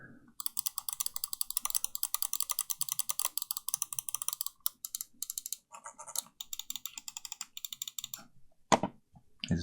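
Rapid, dense clicking from an XM1 gaming mouse's buttons, a steady rattling run of sharp clicks that thins into scattered bursts near the end, close and fairly quiet with no voices.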